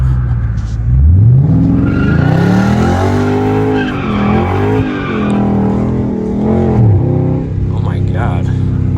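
A Dodge Charger Scat Pack slides around a corner in Mexico, the engine roaring and rising in pitch while the tires squeal and skid, loud and close, with a voice talking over it.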